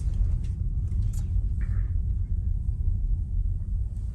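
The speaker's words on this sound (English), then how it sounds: "We'll wait till that guy goes by and we'll get in behind him." A car passes on the road outside a Tesla electric vehicle, a low steady rumble of the vehicle going by, heard from inside the cabin.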